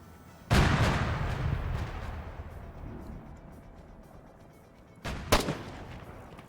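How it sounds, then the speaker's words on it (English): Gunfire in the military shooter Arma 3: one loud, booming shot that rolls off into a long echo, followed about four and a half seconds later by two more sharp reports close together. "Is he taking pot shots at my helicopter?"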